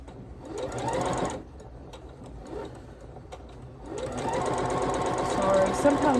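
A sewing machine stitches quilt blocks in two long bursts of steady whirring, near and fairly loud, with a quiet pause between them; a voice talks over part of it.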